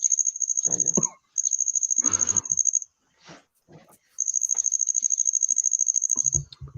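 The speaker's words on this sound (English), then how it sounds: "I think the crickets want to get in on the conversation too." Crickets chirp in a steady, high-pitched pulsing trill, loud and close, running in long stretches with short gaps while a few brief voices and noises come through between them.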